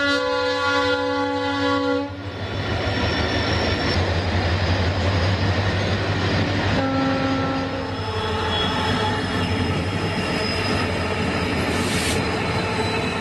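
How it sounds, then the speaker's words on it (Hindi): The Oxygen Express, a train carrying cryogenic oxygen tanks out of Secunderabad, Telangana, bound for Odisha, rumbles loudly and steadily with rolling wheels, while a sustained horn blares at the start and again briefly partway through. "तेलंगाना के सिकंदराबाद से उड़ीसा के लिए निकल रही है एक और ऑक्सीजन एक्सप्रेस।"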